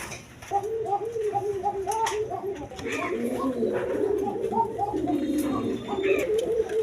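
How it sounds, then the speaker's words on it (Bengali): Rasgolla pigeons at a breeding farm coo in soft repeated rolling calls, several birds overlapping close by under a steady background hum, with someone talking now and then. "এই যে দেখেন রাসগোল্লা কবুতর, দেখেন কোয়ালিটি ফুল কবুতর।"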